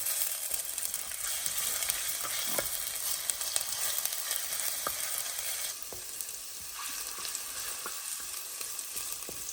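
Chopped onion softens in two to three tablespoons of hot oil under a dense, steady sizzle that eases slightly partway through, with faint occasional clicks of stirring.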